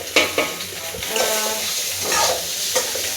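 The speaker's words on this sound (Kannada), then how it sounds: "ಒಂದು ಬಾಂಡಲಲ್ಲಿ ಒಂದು ಸ್ವಲ್ಪ ಖಾರದ ಪುಡಿ ಒಂದು ಸ್ವಲ್ಪ ಅರಿಶಿನ ಹಾಕಿ ಇದೊಂದು ಸ್ವಲ್ಪ ಫ್ರೈ ಮಾಡ್ಕೊತೀವಿ" Chili powder and turmeric frying in a pan for an egg gravy, a close, crackling sizzle with a few sharp scrapes and taps of stirring over a little under four seconds, no speech.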